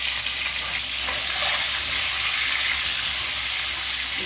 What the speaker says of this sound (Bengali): তেলটা গরম হয়ে গেছে, আমি ডিমগুলো হালকা ভেজে নেব